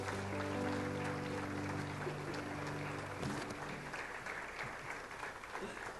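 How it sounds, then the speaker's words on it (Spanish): A church congregation gives a strong round of praise applause, steady crowd clapping at moderate distance while a sustained organ or keyboard chord rings underneath, fading partway through. "Den un fuerte aplauso de alabanza."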